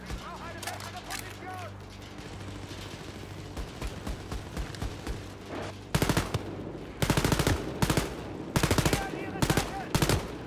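Automatic gunfire in the co-op shooter Wolfenstein: Youngblood, with scattered shots and game sounds at first, then loud, rapid bursts in quick succession over the last seconds.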